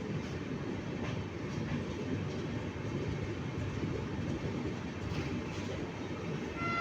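A passenger train with a powerful electric locomotive at the front produces a steady, moderate rumble of rolling wheels and carriage noise, continuous and without speech.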